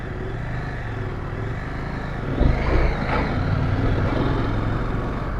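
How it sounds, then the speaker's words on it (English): An adventure motorcycle engine drones steadily on a hilly trail, with a brief louder rumble midway as it pulls uphill, under constant wind noise. "just need to let off the brake at the bottom and then let the engine carry me up the other side"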